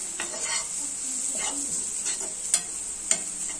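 Grated coconut roasting in a pan for Kerala-style sambar, with a soft continuous sizzle, scraping stir strokes and two sharp clinks of a spoon against the pan.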